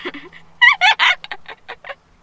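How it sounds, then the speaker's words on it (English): A rooster crows loudly and close by, a few sharp harsh calls followed by shorter fading clucks, with nothing else heard around it. "The whole thing of the bird was crowing the entire time."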